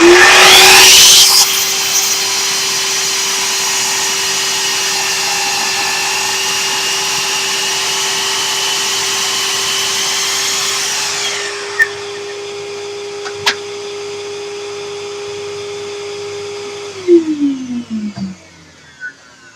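A sliding compound miter saw spins up and cuts through wood for about ten seconds, a loud steady motor whine with grinding cut noise, then winds down with a few light knocks and clicks at the end.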